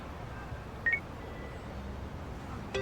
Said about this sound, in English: call me on your phone